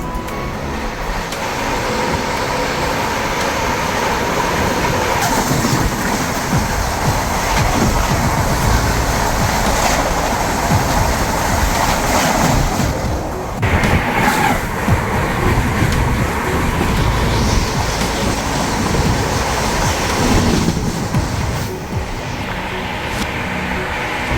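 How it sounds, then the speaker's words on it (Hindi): The Trikural Express pulls into an Indian station in the evening, its steady loud rumble and wheel noise rolling on continuously, mixed with station and traffic din, without talk. "सामने से बस कुछ ही देर में आने वाली है त्रिकुरल एक्सप्रेस"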